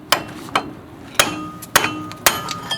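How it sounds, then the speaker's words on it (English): Five sharp metallic hammer strikes ring out at a steady pace, each with a short clanging ring, as a car's tie rod end is hammered off during front wheel bearing replacement. "get your tie rod removing tool ready and hammer it off"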